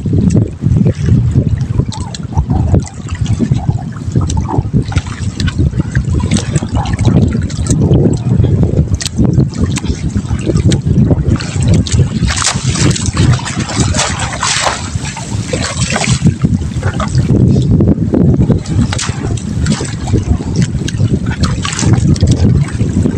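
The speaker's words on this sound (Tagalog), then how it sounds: "Medyo maalon-alon ngayon." Choppy sea water slaps and splashes around a small fishing boat in a province, a continuous loud churning wash with wind buffeting the microphone throughout.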